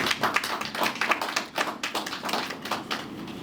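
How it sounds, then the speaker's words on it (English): An audience claps at a school sports tournament launch, producing a dense, steady patter of many hands with sharp individual claps standing out. The applause sounds moderately close, fairly quiet, and continuous, with no voices over it. "let's give them a round of applause, please"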